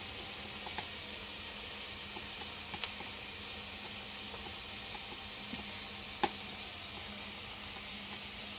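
Turmeric and spices fry in a pan for a Bengali-style spicy rupchanda fish curry, giving a steady, soft sizzle throughout with a couple of faint clinks of a utensil.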